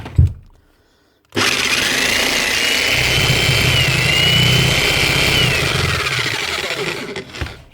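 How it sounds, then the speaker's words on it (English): A Logan Tools breaker hammer starts up after a brief silence and runs loud and continuous, a harsh mechanical buzzing hammer drone holding steady for several seconds before cutting off. "a Logan tool hammer. Basically a Titan machine."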